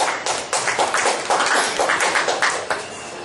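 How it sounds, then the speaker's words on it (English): Audience applause at the 2014 World Tea & Coffee Expo, a crowd clapping in a brisk, steady patter of overlapping claps for a few seconds, moderately loud and without voices. "A big applause to all of you."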